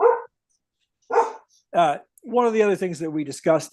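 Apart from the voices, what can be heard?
dogs barking in the background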